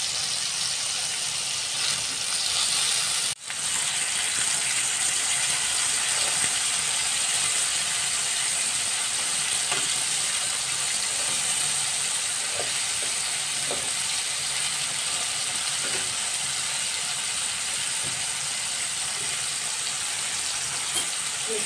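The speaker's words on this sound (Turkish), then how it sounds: "Domateslerimizin alt yüzleri kızardı" Tomatoes frying in a Teflon pan for breakfast give a steady close sizzle and hiss that holds throughout, with faint scattered crackles and a brief clatter near the start.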